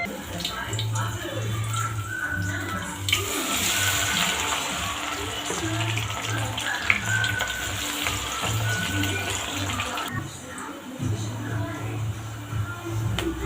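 Banana flower chips hiss and sizzle steadily in hot oil, a loud, continuous frying crackle with a brief louder surge midway as the batter hits the pan.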